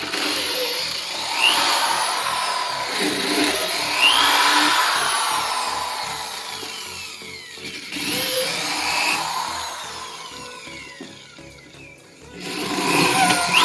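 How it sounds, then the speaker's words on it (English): A power drill with a quarter-inch bit whirs steadily through material in several long bursts, close and fairly loud, pausing briefly between passes. "I'm just going to go back and follow through with a 1/4 drill bit"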